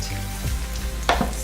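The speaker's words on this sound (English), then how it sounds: "Put salt because it helps onion to cook properly and it cooks fast." Onions fry with salt in a pan, giving a soft, steady sizzle close by, with a faint clink or scrape near the end and no talking.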